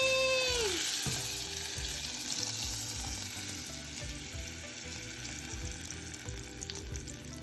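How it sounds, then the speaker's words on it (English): Butter dropped into an overheated pan sizzles and spits loudly at first, with a brief descending squeal, then settles into a continuous frying hiss with light crackles and occasional clinks. "we're just gonna dump the butter in first. Oh, that's too hot."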